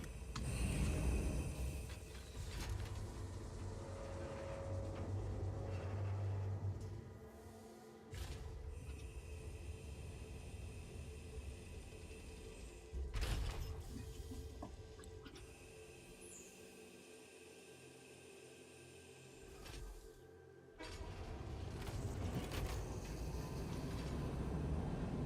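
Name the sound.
train running in the video game Satisfactory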